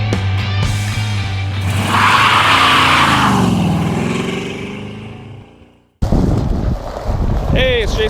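A 1992 Chevrolet Corvette ZR1 with a 375 hp engine and six-speed gearbox drives past, a loud engine roar swelling and fading away to near silence, then a cut to a new steady rush of road noise with faint chirps.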